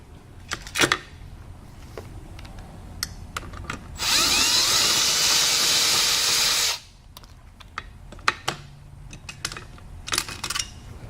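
A power driver spins out the front screws and spacers of a TMIII piston end cap in one steady, loud whir of about three seconds, with scattered light clicks and taps of handling before and after.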